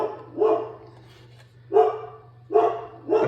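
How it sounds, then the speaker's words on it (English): A dog barks indoors in a workshop where a boat is being built, three or four separate single woofs spaced about a second apart, fairly close, over a low steady hum. "Uh-oh, sounds like the dog wants to bark again."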